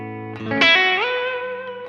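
A sustained electric guitar chord swells through a heavy effects unit with distortion and chorus, ringing out into a washy reverb tail.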